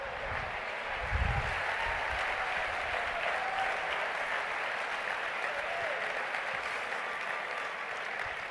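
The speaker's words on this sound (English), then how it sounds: "Big round of applause for the 5." An audience claps steadily after a card trick at a stage talk, a dense even wash of applause lasting throughout without a break.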